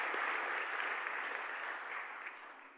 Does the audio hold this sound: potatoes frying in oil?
no